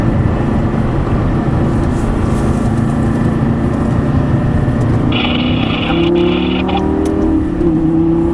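A Lamborghini Gallardo's engine drones loud and steady while driving on the Mettet race circuit, its pitch climbing as the car accelerates over the final seconds.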